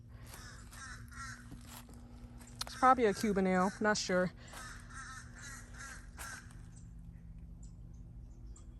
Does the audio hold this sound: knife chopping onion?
no